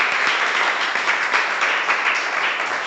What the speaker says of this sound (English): Can we give a big clap to all our guests?